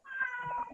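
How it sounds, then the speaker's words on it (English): A house cat gives a single short, faint meow, heard on its own against a quiet background. "And of course, that was a cat."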